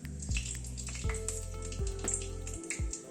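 Whole spices — a bay leaf, cinnamon sticks, small cardamom pods, cloves and black peppercorns — crackle and sizzle in hot oil over a lowered gas flame, with a steady close fry broken by sharp pops and spits.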